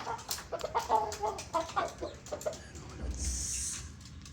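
Young roosters (stags) in a cage make clucks and short calls, moderately close, followed by a brief rustling burst near the end.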